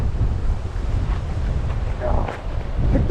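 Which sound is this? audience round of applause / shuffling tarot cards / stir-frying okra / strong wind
strong wind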